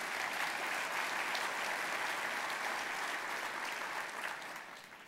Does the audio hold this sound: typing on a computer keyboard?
no